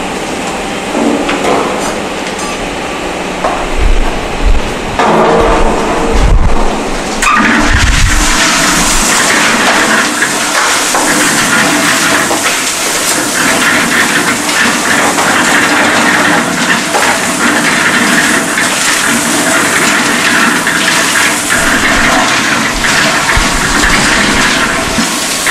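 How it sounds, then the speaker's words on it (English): A laboratory concrete mixer turns while coarse aggregate is loaded, giving a loud continuous churning, rushing roar with knocks and thumps at the start. "So we are going to add the coarse aggregate to the concrete mixer."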